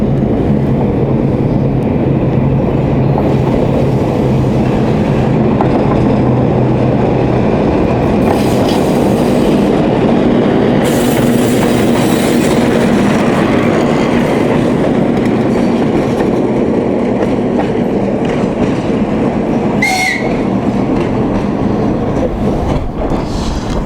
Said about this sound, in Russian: У нас тоже есть возможность увидеть локомотив в движении.